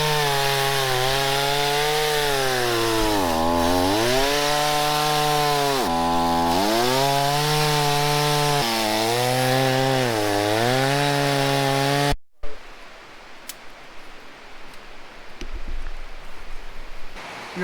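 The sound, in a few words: chainsaw cutting firewood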